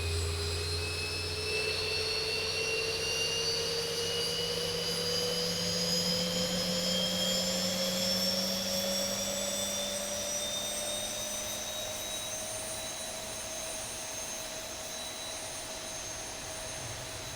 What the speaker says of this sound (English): You can see engine 1 is still off. Engine 2 is spinning like crazy.